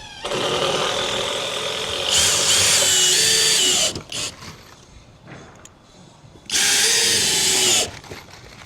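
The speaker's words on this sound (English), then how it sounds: "I'm screwing it now." A power drill drives screws into a flat roof deck during a garage-to-studio conversion, with two loud sustained whirring bursts separated by a quieter gap of faint knocks and handling noise.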